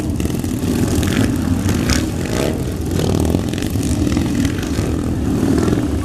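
Royal Signals White Helmets display motorcycles at the Great Dorset Steam Fair, engines droning and revving loudly and steadily as the bikes ride through, a continuous close motor roar with crowd noise beneath and no talk.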